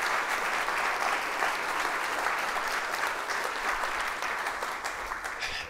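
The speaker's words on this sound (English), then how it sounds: "can we give a big round of applause for all the guys that do the hard work out there?" Sustained applause from an audience at a downtown partnership's annual meeting, dense and steady clapping throughout with a slight fade at the end.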